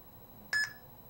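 A smartphone QR barcode scanner gives a single short electronic beep, clear and close against a quiet background.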